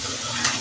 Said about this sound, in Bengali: এখন আবার নাড়াচাড়া দিব যাতে সুন্দর মতো মাংসটার সাথে